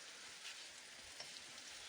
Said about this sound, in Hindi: बारिश तो रुकने का नाम ही नहीं दे रही, हद ही कर दी बारिश ने तो।